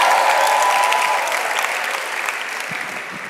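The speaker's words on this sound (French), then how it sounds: "applaudis le Seigneur avec moi." A church congregation applauds the Lord in a sustained, dense burst of clapping that fills the hall, loud at first and gradually tapering off, with faint crowd murmur underneath.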